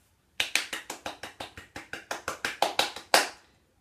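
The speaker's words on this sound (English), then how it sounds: "that's my enthusiastic clap that I meant to do before for Katie" One person clapping fast and enthusiastically, about fifteen sharp, evenly spaced claps in a quick run, close and clear, with a slightly louder clap to finish.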